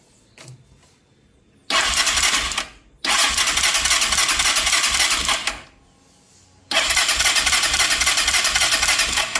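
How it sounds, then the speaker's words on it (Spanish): A motocarro under repair for an electrical fault is started twice, each start bursting into a loud, steady close-range engine running that cuts off abruptly, with quieter pauses between. "Y ahorita mismo vamos a dar arranque."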